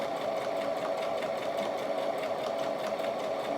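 A new home sewing machine runs steadily throughout, a continuous close mechanical whir with a fast stitching rhythm and no talking.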